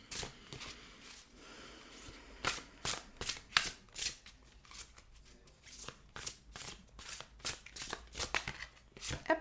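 A deck of oracle cards shuffled by hand, a rapid series of crisp riffling and slapping bursts, close and irregular, with brief gaps between shuffles.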